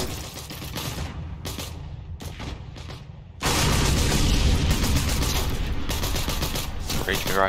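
Rifle fire rings out in an online shooter game, with sharp shots at the start, then a louder burst of dense, rattling gunfire and booms that fills the rest of the clip.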